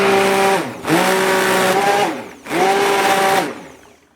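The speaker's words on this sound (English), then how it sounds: "Go ahead and burp my blender, make sure all the air bubbles are out of it." An electric stick blender mixing soap whirs in two bursts of about a second and a half each, separated by a short pause, loud and close.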